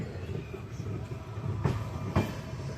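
The Kamayani Express pulls into Bhadohi railway station with a steady rumbling roll and two sharp clanks of the carriages over the rails, close and fairly loud.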